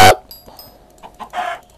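A chicken in the Minecraft video game giving a few short, clear clucks, preceded by a brief loud game sound, with no talking.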